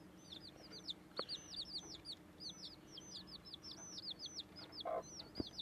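Several young chicks give repeated high chirping peeps close by, a busy overlapping stream of calls over low background hum, with a couple of brief knocks.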